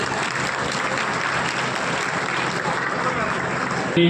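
Loud, sustained applause from a large crowd at an award ceremony, a continuous dense wash of clapping that holds steady throughout.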